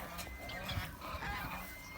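A remote-controlled sound device plays a goose call, giving short honking bursts over a quiet, noisy background, with faint voices nearby.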